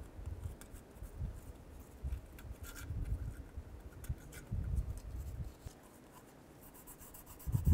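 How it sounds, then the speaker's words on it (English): Carbon scraped off a metal surface with a scraper or razor blade during catalytic converter replacement on a 2008-2012 Ford Escape, with faint repeated scratchy rubbing strokes in short bursts. "You can take a scraper or a razor blade. Be careful of the razor blade and just scrape some of the carbon off."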